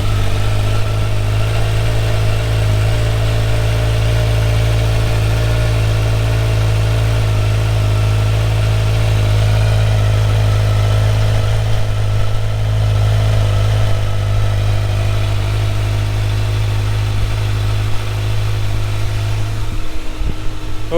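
A Kawasaki Z900 motorcycle idles after a cold start, a steady, close, deep engine hum with an even, unbroken rhythm and only slight wavering throughout.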